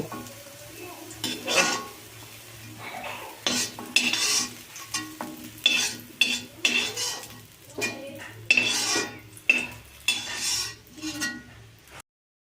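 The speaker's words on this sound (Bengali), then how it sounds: "বেগুন ভাজা হয়ে গেছে এবার আমি বেগুনটাকে তুলে নেবো" Fried eggplant slices lifted out of a frying pan with a metal utensil, giving repeated sharp clinks and scrapes against the pan in an irregular rhythm over a low, steady oil sizzle, close and fairly loud.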